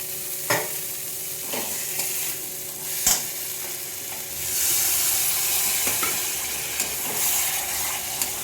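Goat mutton going into a pot with whole garlic heads and cloves, sizzling and frying steadily with a few sharp clatters of stirring, the hiss swelling louder midway through, no talking.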